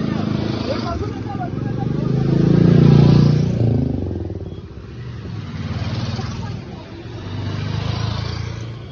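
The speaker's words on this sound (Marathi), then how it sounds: "आम्ही चाललो सगळ्या गाड्या निघतायत आणि मी पण गाडीवर आहे" Vehicle engines rumble and swell as several vehicles pull away together on a trekking trip to Malanggad, with the rider aboard one of them; the drone rises and falls steadily, with voices mixed in.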